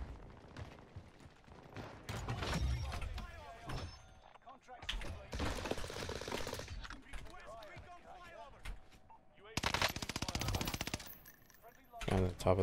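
An RA-25 submachine gun fires in a video game in short, sharp automatic bursts, the loudest near the end, over ongoing chatter between players and softer in-game clatter.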